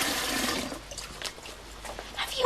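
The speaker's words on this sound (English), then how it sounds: "Jolly lucky to have it coming out of the tap like this." Water gushes from an indoor tap in a steady rushing stream, close and moderately loud, softening and trickling in the middle before swelling again, with no talking.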